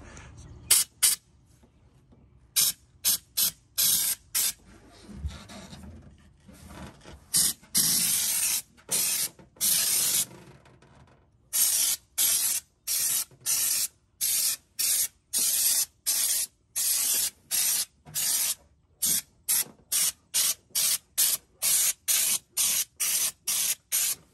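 Spray gun applying Bully rubberized DIY bed liner to a truck bed, loud hissing bursts in short repeated passes separated by silences, growing into a quick regular rhythm.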